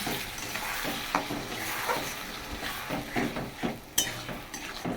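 Spices fry with potatoes and onions in a clay cooking pot, a dense close sizzle under repeated light scrapes and clinks of stirring.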